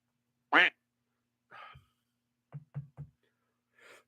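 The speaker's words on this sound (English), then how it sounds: "We got the quack again." Duck quack sound effect: one loud quack rings out, followed by a fainter honk and then a quick run of three short, clipped quacks, all alone against silence.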